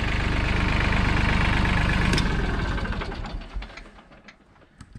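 A Mahindra Max tractor engine labors under hydraulic relief valve load, running with a heavy rhythmic chug for about two seconds, then dropping off and winding down to quieter, uneven putters and clicks.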